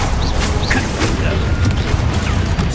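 Confringo fire-blast spell cast in Hogwarts Legacy, a loud dense game mix of booming, mechanical rumbles and crackling blasts that runs steadily throughout, with a voice speaking over the combat.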